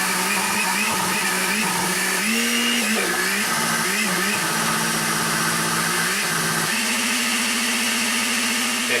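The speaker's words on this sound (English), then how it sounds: "Alright, let's give it a blend." A struggling blender blends a venison and pork taco mixture, its motor droning loudly and continuously, the pitch wavering and shifting as the thick contents churn, with no voices over it.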